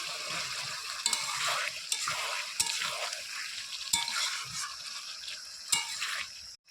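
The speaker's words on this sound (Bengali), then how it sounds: "চিকেনটাকে ভালোভাবে একবারে কষিয়ে নেব কষাইতে কষাইতে একবারে সেদ্ধ করে নেবো" Chicken stirred and fried in a pan for Bengali chicken kosha, giving a steady close sizzle broken by sharp spatula clicks and scrapes every second or so, with no voices.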